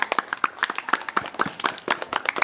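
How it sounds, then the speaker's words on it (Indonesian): Audience clapping at a school teaching session, a brisk rhythmic run of crisp hand claps from a modest group, close and fairly light, with no other sound. "Oke, tepuk tangan dulu buat kita semua."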